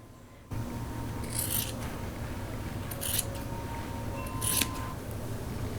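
Scissors snip through old clothing fabric in three separate crisp cuts, spaced a second or so apart, over a steady low room hum.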